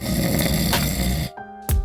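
A man snores loudly right next to the listener with a deep, rattling snore. It breaks off briefly into near silence, then a fresh snorting breath starts again.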